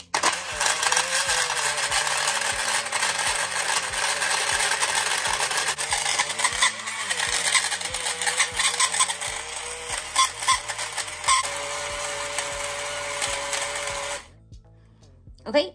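A Teami MIXit portable blender whirs steadily for about fourteen seconds as it mixes ice, almond milk, protein powder and peanut butter powder into a shake, with a loud, close, rattling motor tone that cuts off abruptly near the end.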